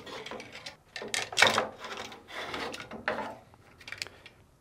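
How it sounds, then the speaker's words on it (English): Fisher & Paykel dryer idler pulley assembly being pushed up and lifted out of its metal bracket, a series of close scraping, rasping rubs and small clunks in quick irregular bursts, no talk. "You push up and lift it out of the bracket."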